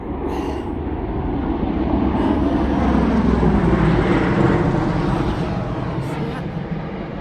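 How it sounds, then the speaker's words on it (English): A low, heavy rumble of a military helicopter passes overhead, swelling to a loud peak in the middle and fading slightly toward the end. "A sort of military helicopter."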